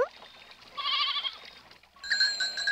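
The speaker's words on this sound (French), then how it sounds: "tu parles d'un troupeau de chèvres?" A herd of goats bleating on a mountain path, two loud nasal calls close by with a soft trickle of water beneath.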